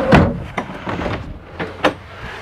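Drawers slide open and shut in the bedroom of a 2012 Coachmen Freelander 23CB RV, giving a close series of wooden rumbles, knocks and soft thumps at an uneven pace.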